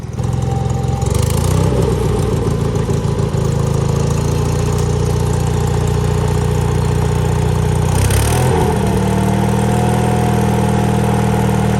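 A Sears GT 19.9 garden tractor, brought back after sitting for two years, runs with a steady, loud mid-pitched engine drone that holds throughout, with a brief change in tone near the start and another around the eighth second.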